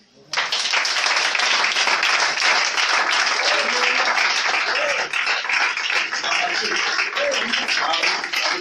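A church congregation at a sermon breaks into dense, sustained applause that starts abruptly and stays loud and even, with voices mixed in.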